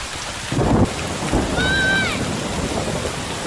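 Rain and a rumble of thunder from a horror film, a steady wash of rainfall with a low thunderous burst early on and a brief whining tone in the middle.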